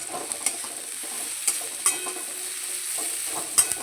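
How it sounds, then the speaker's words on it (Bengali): Onions and four or five slit green chillies frying in oil, an even sizzle with scattered spatula scrapes and taps against the pan. "পেঁয়াজটা একটু লাল লাল করে ভেজে নেব পেঁয়াজের মধ্যে দিয়ে দিচ্ছি চার পাঁচটা চেরা কাঁচা লঙ্কা"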